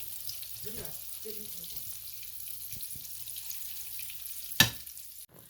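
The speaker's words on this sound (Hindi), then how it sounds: "ये आप डालते जाएं और फ्राई हो जाएंगे" Stuffed brinjal (baingan) with potato masala filling frying in a pan: a soft, steady sizzle with brief murmurs of a voice and a sharp clink of utensils near the end.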